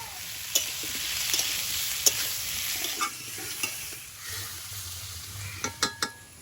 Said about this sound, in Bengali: ওলটা একটু ভাজা ভাজা হয়েছে এবার দিচ্ছি পেঁয়াজ কোচা